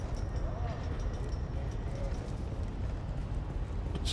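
Donkey hooves clip-clop steadily across the ground in Dune: Awakening, a soft continuous patter under a low ambient rumble with talk over it.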